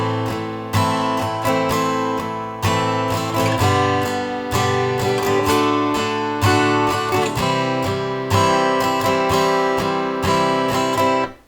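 An acoustic guitar strums a pattern, each chord played twice. Steady rhythmic strokes ring out clearly and loudly with no voice.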